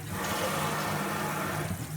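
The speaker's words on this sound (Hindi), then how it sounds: "हमें इसमें आधा कप पानी डालना है" Half a cup of water poured into thickening halwa in a pan while cooking, a continuous gushing, sizzling splash that holds steady for the whole moment with no talk.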